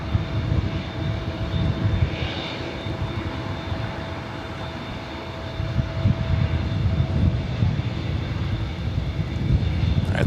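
An Airbus A350-1000 arriving from Doha on approach to runway 24 right at LAX gives a steady, broad jet engine roar that holds for the whole stretch, loud and fairly close with no voices over it.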